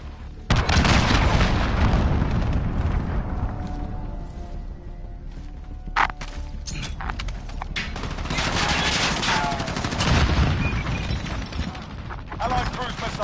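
Cruise missile strikes hit in an online shooter on PS4, a dense, loud barrage of booming explosions and crackling blasts mixed with gunfire, continuing for several seconds with bursts of rumbling debris.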